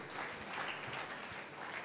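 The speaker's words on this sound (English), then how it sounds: "Clap your 2 hands for Jesus" A church congregation claps along during a Sunday morning service, a steady, dense wash of hand claps that holds evenly throughout without any talking over it.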